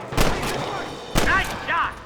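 Two sharp gunshots in the Western video game Red Dead Redemption, close and loud, each with a short echoing tail, over a steady game ambience.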